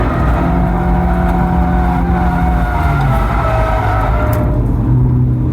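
A race car engine drones loud and close while held in fourth gear through a track turn. The pitch is steady and sustained, then shifts slightly near the end. No one speaks.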